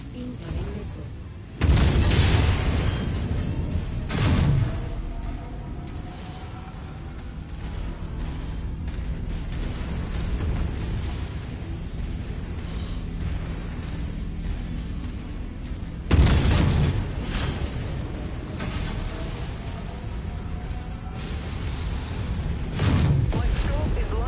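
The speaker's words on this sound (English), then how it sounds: "Incoming missile." Heavy incoming missile blasts in the MechWarrior 5: Mercenaries video game, two loud booming explosions about fifteen seconds apart over a constant rumbling mech battle background.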